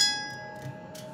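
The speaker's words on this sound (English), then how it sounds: "The bell opens the gate." A single bell rings at a gate in the Lord of the Rings: Gollum video game, a faint, clear metallic tone that strikes once and slowly decays with no talk.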